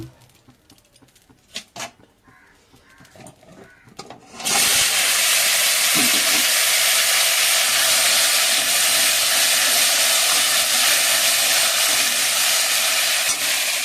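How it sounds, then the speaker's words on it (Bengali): Potatoes for a fish curry dropped into hot oil in a kadai: after a few quiet seconds of small clatters, a sudden loud hiss bursts in and settles into a steady, intense sizzle that continues to the end. "কড়াইয়ে তেল দিয়ে মাছের আলুটা ভেজে নেব।"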